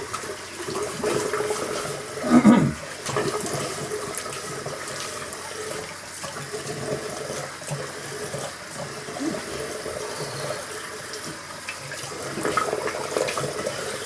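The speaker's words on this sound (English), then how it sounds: "Let me get some water on this dome." Water runs steadily from a tap onto a head while shaving, a continuous splashing flow with a brief louder gush early on, no talking.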